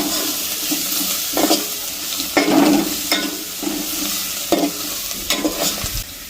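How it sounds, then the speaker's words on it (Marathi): A spatula stirs spices and turmeric through an egg biryani mixture in a pan, making loud wet scraping strokes in a repeated rhythm over a constant low sizzle. "सगळे मसाले वगैरे टाकून या ठिकाणी व्यवस्थित मिक्स करून घ्यायचे आहे"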